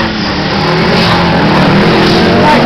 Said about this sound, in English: At the moment I think we can only see one sprint car.